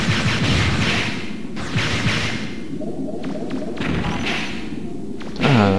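Explosions in the video game Megaman Legends 2: a series of muffled thuds and blasts with whooshing bursts, dipping quieter midway before a sharp burst at the end.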